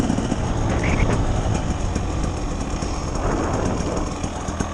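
A KTM 300 XCW TBI two-stroke dirt bike ridden as a dual sport on a road, its engine droning loud and continuous with heavy wind rush as it accelerates toward sixty.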